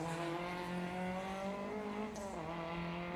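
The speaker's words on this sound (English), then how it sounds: "2-litre Ford Escort." A 2-litre Ford Escort race car at a historic grassroots sprint meeting in Leyburn, Australia, holds a steady loud engine drone, then shifts pitch briefly partway through.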